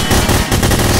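Rapid gunfire rattles in the video game Hidden, a short close burst of several sharp shots in quick succession, loud and alone.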